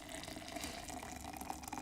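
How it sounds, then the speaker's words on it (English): Freshly boiled water pours into a laboratory beaker, a close, continuous splashing trickle with a steady, even flow throughout. "we have our freshly boiled water. We're going to add it to the beaker"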